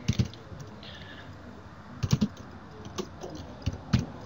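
Irregular bursts of keyboard typing, soft clicks clustered in short runs with pauses between, close and fairly quiet, no talking.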